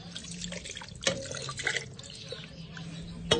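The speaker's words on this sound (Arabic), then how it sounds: "غادي نزيد شوية الماء" Water poured into a cooking pot while making a Moroccan meat and prune dish, a soft, low trickling splash running at modest volume with a few brief clinks of the pot.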